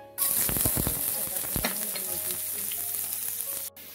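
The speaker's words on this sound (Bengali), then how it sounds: "রসুনটা ভাজা হয়ে গেছে" Three garlic cloves fry in about two tablespoons of oil in a pan, giving a close, steady sizzle with a few sharp crackles and pops early on. It then settles and cuts off near the end, with no talking.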